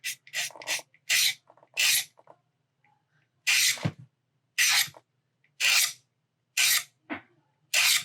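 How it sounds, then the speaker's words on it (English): Sandpaper smooths a 1/4-scale Deadpool sculpted figure with a series of short, crisp rasping strokes in an irregular rhythm. The strokes are close and clear, with near silence between them. "And then I just follow up with some sandpaper."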